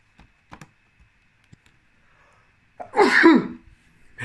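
A single sharp sneeze bursts out close by, loud and alone, after a few quiet keyboard clicks and small taps in a quiet room.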